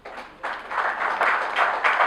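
Audience at a political rally in Senegal breaks into applause, a swelling wash of many hands clapping that rises in waves and holds fairly loud with no talk.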